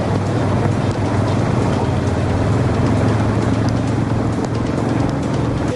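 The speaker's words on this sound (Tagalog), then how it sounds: "malakas na naman yung buhos ng ulan dito" Steady, dense hiss of heavy flood-season rain in the Philippines pours without pause, a broad wash of noise with a faint low hum beneath it.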